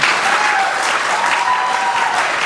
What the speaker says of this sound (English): Applause at the House Ways and Means Committee hearing.